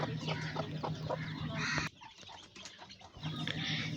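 A broody desi hen that hatched eight of nine eggs clucks repeatedly on a rooftop farm, her short rhythmic calls close and clear, with a brief quieter pause before the clucking resumes.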